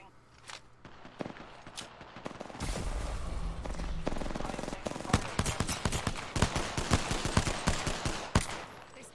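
Video game gunfire building from scattered shots to dense rapid bursts, loud and close, crackling steadily over several seconds with background battle noise.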